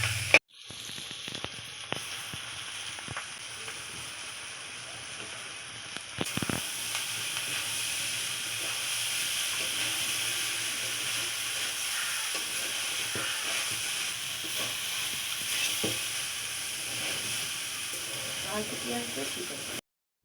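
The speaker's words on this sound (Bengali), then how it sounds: "পেঁয়াজটা একটু ভালো করে নেড়ে নেড়ে ভালো করে কিন্তু ভাজতে হবে" Chopped onions fry and sizzle steadily in a pan in a wooden home kitchen, with a constant hiss and occasional stirring scrapes, and talk running faintly over it.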